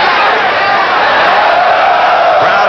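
Boxing crowd at a bout between Sammy Serrano and Julio Valdez yelling in a steady, loud roar that fills the arena evenly, with voices blending into one sustained wall of sound.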